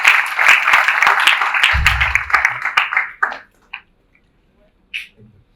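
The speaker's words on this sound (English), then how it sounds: "Let's give him a clap." Audience applause at an aviation careers conference, a dense spell of clapping for about three seconds that tapers off into near silence, with a few scattered claps and a voice at the close.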